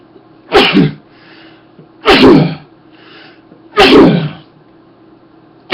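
A person sneezes three times in a row, each sneeze loud and close, evenly spaced about a second and a half apart, with quiet between them.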